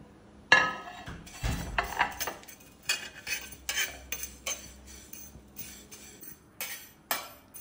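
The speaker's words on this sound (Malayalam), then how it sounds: "ആദ്യം ഉലുവ ഇട്ടു, ഇനി ഗ്രാമ്പു ഇടാൻ പോണത്. കരിവേപ്പില നന്നായി വറുത്തെടുക്കണം." Fenugreek, cloves and curry leaves roasting dry in a metal pan, with a spoon repeatedly scraping and clinking against the pan in irregular, sharp knocks, close and fairly loud.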